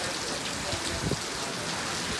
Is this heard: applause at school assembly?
no